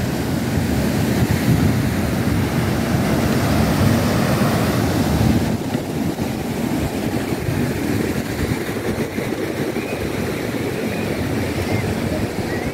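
Ocean surf rolls steadily at Mongaguá beach beside the fishing pier, a loud continuous wash of breaking waves mixed with wind rumble across the microphone and no talking.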